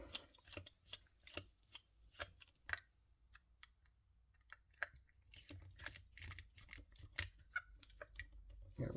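Small screws are backed out of the base of a diecast Mercedes-Benz model car, a quiet close series of irregular clicks and scratchy ticks from a screwdriver, with no talk.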